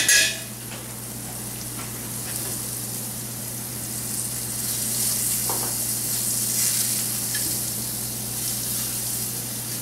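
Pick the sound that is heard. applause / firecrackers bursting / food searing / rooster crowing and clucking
food searing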